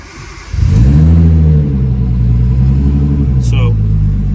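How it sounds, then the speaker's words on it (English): Nissan Skyline R32 GTS-T engine starting: a brief crank after half a second catches into a loud rumbling idle that flares, settles into a steady hum, and carries a short high squeak near the end. "So Kristen, if you want to start the car up"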